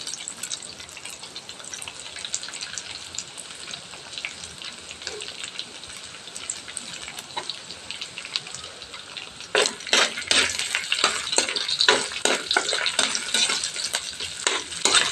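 Chicken pieces frying in a pan until golden brown, a constant close sizzle and crackle that grows livelier with stirring and popping bursts in the second half.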